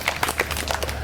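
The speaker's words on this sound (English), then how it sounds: "You guys give them a round of applause" A small outdoor crowd applauds at a garden dedication and ribbon cutting, a brief burst of scattered, uneven hand claps close by with some separate sharp claps standing out, and faint voices mixed in.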